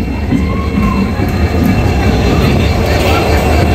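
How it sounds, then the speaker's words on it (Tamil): A loud, steady rumble of a new Pamban–Tambaram train rolling past close by through a station, with a faint metallic squeal and rattle throughout. "இதான் ட்ரெயின்."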